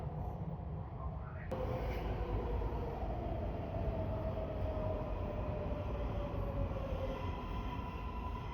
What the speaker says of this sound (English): I ran so much and I still missed the train.